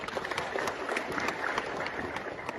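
Dense, steady clapping from an audience at a provincial gathering attended by local officials, loud and continuous for a couple of seconds with a faint murmur of voices underneath.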